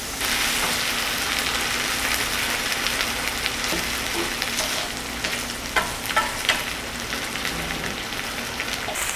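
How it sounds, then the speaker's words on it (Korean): Cornmeal stir-fries in oil in a pan while polenta is being made, giving a steady, fairly quiet sizzle broken by intermittent scraping and stirring clicks. "계속 이렇게 볶다 보면은 이제 막 이게 익고 기름이 마르려고 그래요."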